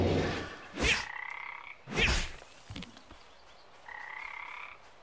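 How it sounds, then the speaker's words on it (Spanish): Frogs croak in the video game Mulaka: several loud, rasping calls, each about a second long, trade off with sharp clicks and splashes across the scene. "Oh, más ranas."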